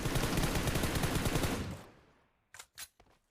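Rapid automatic gunfire from PUBG Mobile gameplay, a dense sustained burst for about a second and a half that fades into a tail, then a few sharp separate shots.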